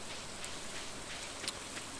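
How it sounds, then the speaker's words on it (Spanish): Video game rain in Stardew Valley, a constant soft hiss of falling drops with a few brighter patters, faint and even with no talking. "me siguen gustando mucho los días de lluvia"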